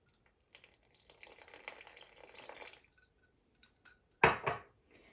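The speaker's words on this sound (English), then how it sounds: "I'm going to start adding a little bit of my cold water at a time." Cold water trickles and splashes softly into flour for a couple of seconds, then after a pause comes a brief, louder splash with a second small pour.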